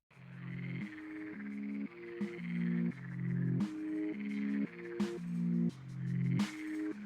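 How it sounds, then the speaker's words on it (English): A frog croaks at night beside a pond, a loud close series of rhythmic, throaty calls repeating roughly every second in a steady pulsing pattern, with no other voices present. "Perched on a lily pad, a frog serenaded the night"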